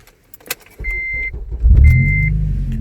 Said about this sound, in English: Let's go ahead and start the vehicle up.